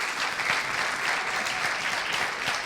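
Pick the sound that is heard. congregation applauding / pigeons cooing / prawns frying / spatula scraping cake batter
congregation applauding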